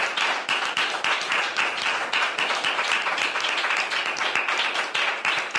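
Studio audience applauding on a talk show, a loud, close, sustained burst of clapping with a slightly pulsing rhythm that fills the whole stretch without speech.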